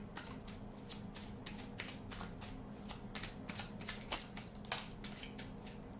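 Oracle cards are shuffled by hand and allowed to fall, making soft, steady riffling and slapping sounds that stay quiet and close throughout.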